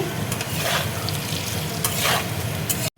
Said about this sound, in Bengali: আলু দেখো ভাজা হয়ে গেছে